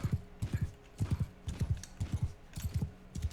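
Horse hooves clip-clop steadily in the medieval combat game Bannerlord, with galloping groups of three or four hoofbeats repeating in a quick, even rhythm. The sound is close and clear over a soft background.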